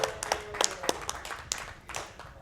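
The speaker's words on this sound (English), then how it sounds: "Oh, round of applause." A few people clapping hands in an uneven, sparse rhythm, close and fairly light, without talk.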